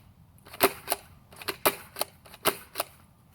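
A Magnum Super drum toy blaster gives a series of sharp, dry snapping clicks, about eight in quick irregular succession, close by and otherwise quiet.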